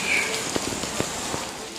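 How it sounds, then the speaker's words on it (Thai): Heavy monsoon rain with large drops falls outside at Khao Yai, Thailand, a steady close hiss of water on surfaces with a few louder splashes standing out. "ด้านนอกฝนตก ก็เม็ดใหญ่นะคะ ก็ถือว่าแรงเหมือนกันนะคะ"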